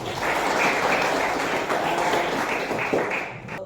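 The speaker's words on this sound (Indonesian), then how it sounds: "Tepuk tangan dulu." A classroom of students claps together, a loud, continuous burst of applause lasting about three seconds before tapering off, with no talking over it.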